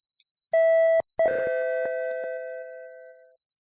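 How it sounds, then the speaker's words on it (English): An inn's doorbell in a video game sounds again, a clear two-note chime with a brief gap before the second tone, then a long fading ring with nothing else around it. "We heard the doorbell once more as it rang throughout the inn."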